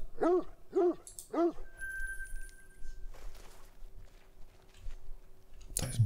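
A dog in theHunter: Call of the Wild video game gives three sharp, evenly spaced yelps near the start, followed by quieter game sounds and a loud burst at the end.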